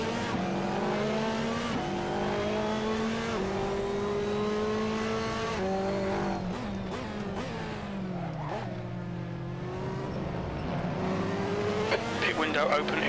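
A GTLM race car in the Assetto Corsa racing game laps Donington Park GP. The engine drones loud and close throughout, its pitch climbing under acceleration and dropping sharply through downshifts under braking.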